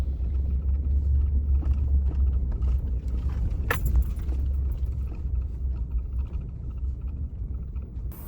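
A car rolls slowly up a dirt driveway from a main road, a steady low rumble of engine and tires throughout with a brief rattle partway, nearby and moderately loud, with no talk.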